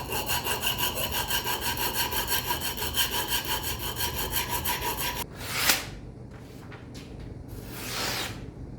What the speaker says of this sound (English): So all that's left to do on it is to go on ahead and sharpen it.